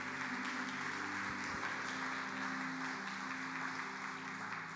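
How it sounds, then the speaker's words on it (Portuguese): Sustained applause from a church congregation, steady and fairly faint, filling the space evenly throughout with a low musical hum underneath. "Você pode aplaudir o Senhor por isso, amados?"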